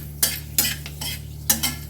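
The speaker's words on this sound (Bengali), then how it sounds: "5 ফোড়নটা দেব, আর দেব শুকনো লঙ্কা। এটা একটু ভাজা ভাজা হয়ে যাক" Panch phoron spices and dried red chilli frying in hot oil while preparing a bitter gourd chorchori, heard as repeated stirring and scraping strokes of a spoon in the pan over a low steady sizzle, close by, with no talk.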